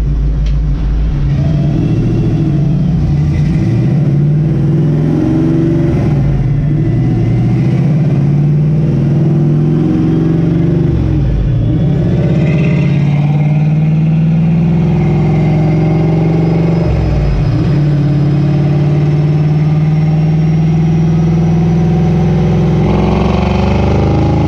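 Ford Maverick with a T5 transmission swap on a chassis dyno, its engine droning loud and steady for a long stretch with a few dips and swells in revs, no talking over it.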